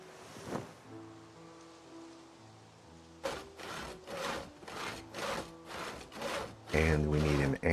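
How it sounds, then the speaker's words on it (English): Logs are sawed by hand in Project Zomboid: a short scrape, a pause over a low musical tone, then a run of rhythmic back-and-forth saw strokes ending in a louder rasp. "let's saw some logs"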